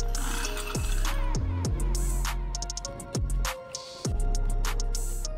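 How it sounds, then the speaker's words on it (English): Several 8mm screws being removed from the under panel of a BMW F30 with a ratchet, giving bursts of quick clicking and whirring pawl sounds in a loud, close, continuous mechanical clatter. "we can remove the under panel, which is secured by several 8mm screws."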